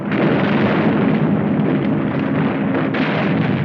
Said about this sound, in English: Michino was pounded from the air by fighters and bombers.